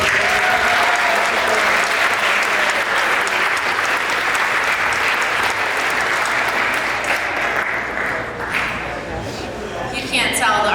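Sustained audience applause at a school awards ceremony, dense and loud clapping that carries steadily for about ten seconds before thinning slightly near the end, with some crowd noise mixed in.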